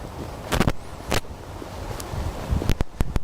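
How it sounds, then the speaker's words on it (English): Wind buffets the microphone in sharp, irregular gusts at the Geelong Botanic Gardens, with rustling and a low outdoor rumble between bursts. "It's a little bit windy, isn't it?"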